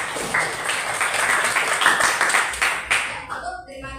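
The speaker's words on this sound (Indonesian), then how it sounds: "Kita beri tepuk tangan ya" A classroom of children clapping together, a brisk burst of many small hands that fades out near the end, with some voices underneath.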